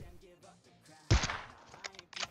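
A sniper rifle shot in the shooter game PUBG Mobile cracks out loud and sudden, with a short echoing tail and a couple of lighter follow-up bursts, over faint in-game background sound.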